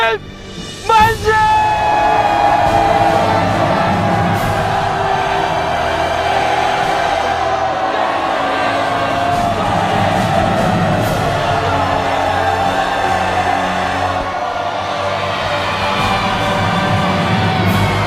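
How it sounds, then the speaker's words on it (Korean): A large crowd shouts the Korean independence cheer "manse" in one massed, sustained roar that fills the space, swelling at the start and holding as a dense wall of voices. "불길같이 퍼져나간 대한독립만세의 함성"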